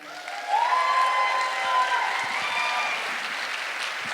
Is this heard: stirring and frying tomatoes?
no